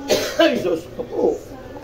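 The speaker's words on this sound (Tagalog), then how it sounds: "Ubo." A person coughs while cooking ginataang puso ng saging: a few rough, throaty coughs in quick succession, close to the microphone, with faint voices around them.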